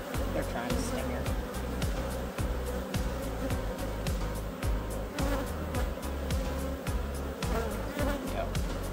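Honeybees buzzing densely inside a hive around a newly introduced queen, a constant close hum with many insects moving at once.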